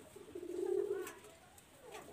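Pigeons at a Bangladeshi tournament-pigeon loft give a soft, low cooing phrase that swells and fades over about two seconds, close but faint, with light chirps near the end.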